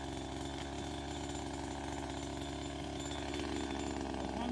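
A chainsaw roars continuously up close, cutting open a hollow tree holding a bee nest in Paraguay, its engine droning steadily with no voices over it.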